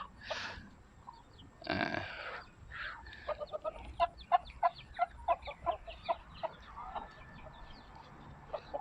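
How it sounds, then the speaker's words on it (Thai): Chickens in a farm garden cluck in a quick run of short pulsing calls, close and fairly loud, after a few softer scattered bird sounds at the start. "นะฮะไก่ๆมาต้อนรับ มากันเต็มเลยนะฮะ"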